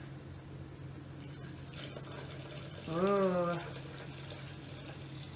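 Water poured from a jug into a glass container in a home kitchen while making cold brew coffee, a short rising gurgling pour lasting under a second amid quiet room noise, with a brief voice exclamation.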